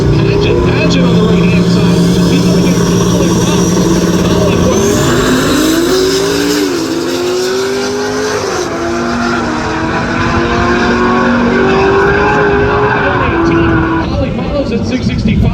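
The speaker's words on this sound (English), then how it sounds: "Here comes the 1985 Chevy wagon of Chris Paget." A 1985 Chevy wagon launches and runs down the drag strip at Tulsa Raceway Park, a loud engine roar rising through gear changes, with a track announcer talking over it throughout.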